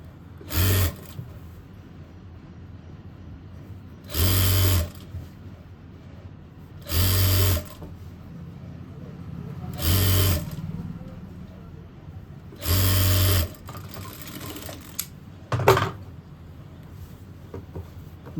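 Sewing machine set to speed 5 stitching the hem of a suit in five short, even bursts of rapid whirring, each about a second long with quiet pauses between, followed by faint handling clicks.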